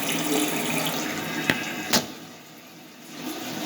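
Water runs from a tap in a steady, moderately close rush, with two brief knocks partway through and no talking.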